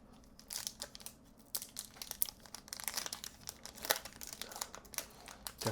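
A trading card pack's foil wrapper crinkles and tears as it is opened up close, with a steady run of sharp, irregular crackles and no talking.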